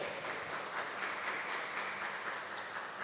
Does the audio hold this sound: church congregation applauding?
yes